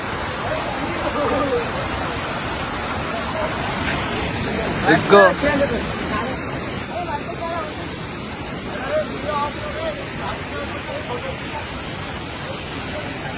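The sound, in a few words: rushing water of Koheda waterfall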